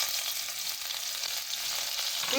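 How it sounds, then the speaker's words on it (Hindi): Finely chopped red and green chillies with a pinch of cumin fry in hot oil, giving a loud, continuous close sizzle and crackle with no talking. "बिल्कुल इनको लाइट सा हल्का सा फ्राई करेंगे"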